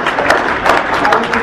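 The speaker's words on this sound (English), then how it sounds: "It's a strong round of applause, please, for their cooperation in this exercise" A room of spectators at a congressional debate event gives a loud, sustained round of applause, many hands clapping together in a close, dense burst.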